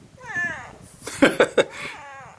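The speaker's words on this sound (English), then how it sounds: "A cat." A cat meows several times up close, with harmonic wailing calls at the start and end and a few sharp, louder cries in between; the cat is recorded outdoors during a camcorder test.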